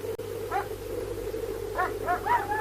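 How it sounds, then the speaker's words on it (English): Police dogs bark at a distance, a few short yelps around the half-second mark and then a quick cluster of barks near the end, heard over a steady low hum. "Police dogs?"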